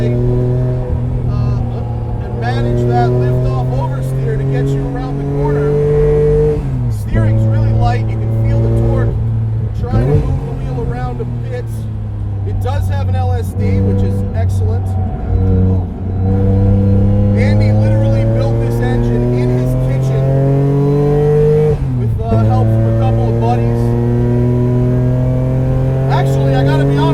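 A 700 HP supercharged Acura TL racing on track at a Gridlife event, its engine revving up and down through repeated gear changes with a thin supercharger whine on top, loud and close, while someone talks over it.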